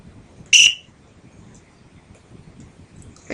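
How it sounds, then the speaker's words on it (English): Chess program warning whistle during a game, a single sharp high whistle burst about half a second long, loud and alone over faint background noise, with another brief tone starting at the very end. "A couple whistles there telling you I did some things I shouldn't do"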